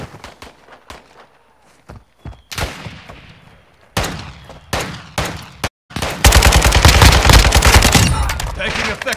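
Gunfire in a Call of Duty battle royale match: scattered single shots and short bursts early on, then a loud, dense, sustained automatic volley in the last few seconds.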